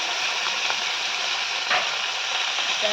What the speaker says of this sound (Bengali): তো একদম তেলের মধ্যে জাস্ট ভেজে ছেঁকে নিচ্ছি বাটা মাছগুলো